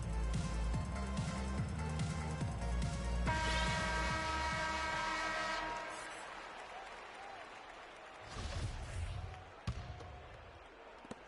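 Crowd applause in a basketball video game, a sustained clapping roar with game music underneath, fading to a quieter arena bed with a few thuds and a brief swell near the end.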